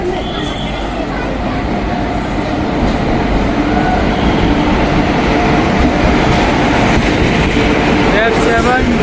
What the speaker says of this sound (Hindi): हमारी train Bhavnagar Kochuveli express platform पर देख सकते हो आप सामने एंटर कर रही है।